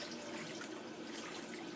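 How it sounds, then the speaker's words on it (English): Tap water runs steadily into a sink while quinoa is rinsed in the kitchen, a continuous close splashing wash with no talk. "I take about 5 minutes to rinse my quinoa"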